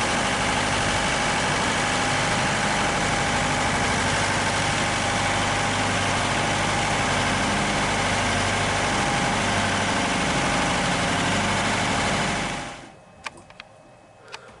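A diesel engine drones steadily as a Skipjack 48 sailboat motors at sea, a loud continuous hum with vibration that fades out abruptly near the end, leaving a few faint knocks.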